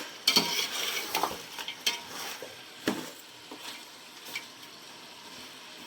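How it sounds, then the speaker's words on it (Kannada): Chicken biryani being stirred in a pot after salt and turmeric go in, with scraping strokes and a light sizzle in an irregular rhythm, fairly faint and close, no talk. "ಈಗ ಚೆನ್ನಾಗಿ ಮಿಕ್ಸ್ ಮಾಡಿ ಉಪ್ಪು, ಅರಿಶಿನ ಪುಡಿ ಹಾಕಿ"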